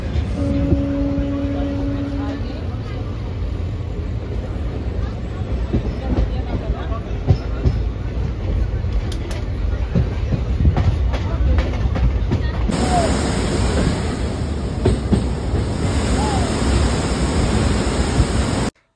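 A train runs steadily for a long stretch on a 21-hour journey near Farakka, a loud continuous rumble with rattling and clacking from the carriages and a brief tone near the start.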